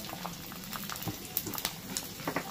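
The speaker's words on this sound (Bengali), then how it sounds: "এবার এই তেলের মধ্যে দিয়ে দিচ্ছি কাঁচা লঙ্কা কুচি" Chopped green chillies sizzle in hot oil with a soft, steady bubbling crackle and scattered light pops, fairly quiet and with no voices.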